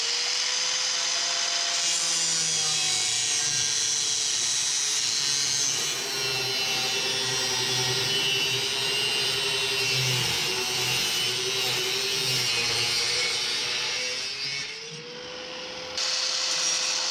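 Metal cutting on a 1946 Nash two-door car body, done with basic hand and power tools in a yard: a steady, loud grinding-saw whine with shifting pitch, running continuously for about fifteen seconds before a brief dip and restart.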